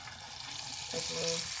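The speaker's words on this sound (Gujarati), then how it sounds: "એમાં આપણે થોડું પાણી નાખી દઈશું" Water pours into a cooking pot of oily, spiced chickpea curry, a short splashing gush rising under a speaking voice.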